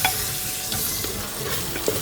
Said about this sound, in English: I'm going to mix it well and cook it for about 5 minutes.